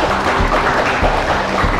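Audience clapping at a live poetry recital performance, a dense, loud, continuous patter of many hands that holds steady through the short stretch.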